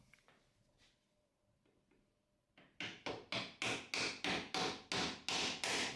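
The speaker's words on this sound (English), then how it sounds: "A few gentle strokes with the hammer." Gentle hammer strokes land after a quiet stretch, about a dozen evenly spaced taps in a steady rhythm, growing slightly firmer, close by with no talk.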